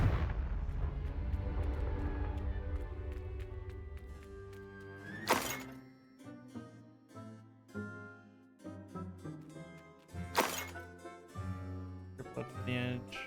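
Hogwarts Legacy's Confringo blasting spell goes off twice, each a loud, sharp explosion with a ringing tail over a sustained game backdrop of music and thuds.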